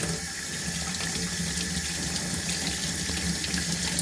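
Water runs steadily from a tap into a sink being filled to body temperature for incubating ball python eggs, a constant close splashing rush with no talk.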